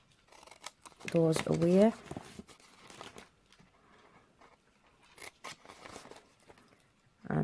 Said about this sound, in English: just want to cut away both of those rectangles